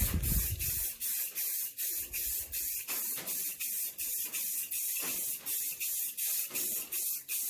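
A spray gun lays a wet paint coat on 36-year-old Camaro plastic taillights, close, loud bursts of hissing spray repeating in an even rhythm of roughly ten short passes, with no voices.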